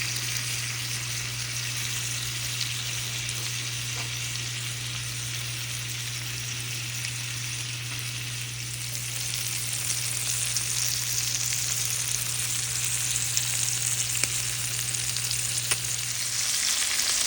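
Eight lamb chops fry in a large cast iron pan with a loud, dense, continuous sizzle and crackle that grows a little stronger partway through, heard close up without any talk.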